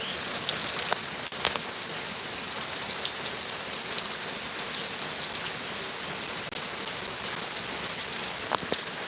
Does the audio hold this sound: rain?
yes